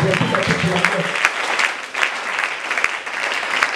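An audience in a church breaks into sustained applause and cheering, dense clapping that stays loud and steady throughout.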